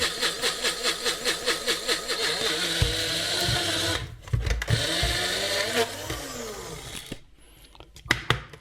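Electric grinder pulverising roasted cocoa nibs into powder for dark chocolate, a loud steady whirring motor with a pulsing rhythm that shifts pitch and roughens as the nibs break down, close up.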